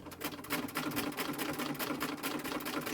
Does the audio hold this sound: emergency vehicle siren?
no